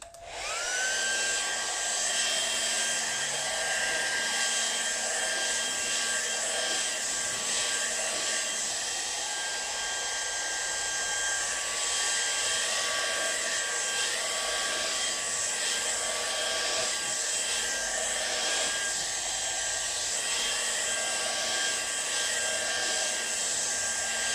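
A hair dryer runs steadily and loudly for the whole stretch, blowing poured acrylic paint on a canvas in a feathering spiral technique, with a constant whining hum and no talk.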